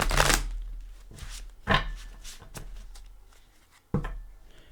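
Light Seers tarot cards being shuffled by hand, a few riffling bursts of papery flutter separated by short pauses, close and fairly quiet.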